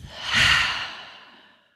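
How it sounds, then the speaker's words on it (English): A person breathes out slowly through the mouth during a guided mindfulness exercise in a classroom. One long, soft, close exhale swells and fades, with no talking. "Exhale out of your mouth."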